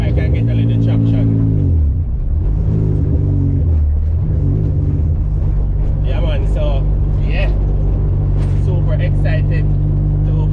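A 2ZZ-GE-powered Toyota Corolla launches at a drag strip with heavy wheel spin. The engine is a loud, sustained, droning roar with a low rumble, near and constant throughout. Some shifting tones sit on top of it.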